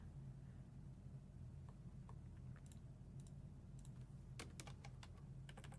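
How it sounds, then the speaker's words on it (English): Computer keyboard typing, faint and close, with scattered single keystrokes giving way to a quicker burst of clicks over a steady low hum, no talking. "as you can hear me typing."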